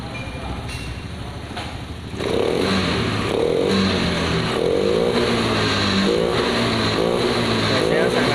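Honda injection scooter engine (Scoopy/Beat/Vario type) with a new TPS sensor starting after an ECU reset, then running steadily at a loud, close idle with faint talk underneath.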